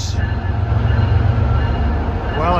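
MBTA MPI HSP46 locomotive passing with a loud, steady low rumble throughout and a brief squeal near the end.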